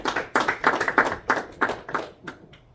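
A small group claps by hand at a township trustees meeting, about a dozen distinct claps in an uneven rhythm that thin out and fade, with no talk over them.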